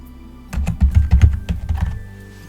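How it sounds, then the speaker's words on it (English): Quick burst of typing on a computer keyboard, about a dozen close, crisp keystrokes in rapid succession, with no talking. "what you can do is come down to search here and type disk"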